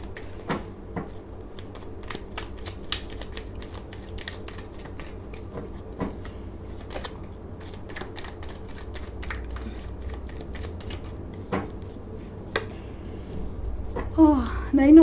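A tarot deck is shuffled steadily for a career reading, with a close, repeating patter of card slaps and riffles running throughout and a faint voice coming in at the end.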